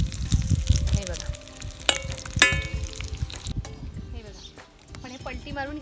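Stuffed capsicum sizzling in a pan, with a few sharp clinks and scrapes as the peppers are gently flipped and the lid is set down, then a quieter, steady frying hiss.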